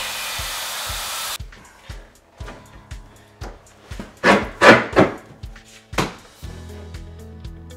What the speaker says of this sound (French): On prend une scie ronde, on coupe et on installe.